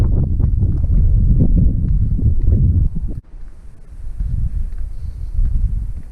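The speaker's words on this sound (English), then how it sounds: "It is kind of windy, so it's gonna sound kind of weird in the background." Gusty wind in a canyon buffets the microphone in heavy low rumbles, briefly easing before picking up again in softer gusts.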